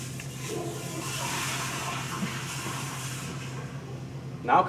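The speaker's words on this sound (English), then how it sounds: "Okay, guy, flush it." A toilet flushes with a steady rushing, hissing wash of water that carries on for several seconds at moderate level, ending in a brief louder knock.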